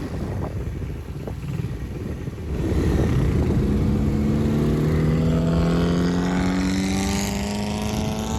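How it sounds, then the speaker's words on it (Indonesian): A loud motorcycle engine roar builds and holds, rising in pitch as a Yamaha R3 with an F1-style exhaust accelerates close by on a bridge in Ambon, a throaty exhaust drone with no voices. "mengikuti R3 dengan raungan knalpot F1"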